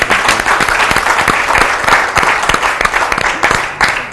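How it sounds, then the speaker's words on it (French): A close, loud audience applause with individual sharp claps standing out over a dense wash of hands, ragged and lively throughout, no speech over it. "Alors on l'applaudit."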